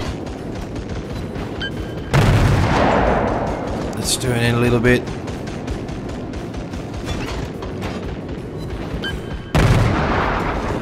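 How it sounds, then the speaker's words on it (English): Warship cannons firing in the World of Warships game aboard the cruiser Yubari, with heavy booming salvos at the start and end and a mechanical rattle between, loud and close while someone talks. "And these cannons are, to be honest, pretty amazing."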